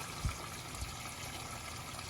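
A small waterfall spills into a backyard garden pond in the Arizona desert, a soft, continuous trickle and splash heard faintly and evenly throughout, with a couple of low thumps near the start.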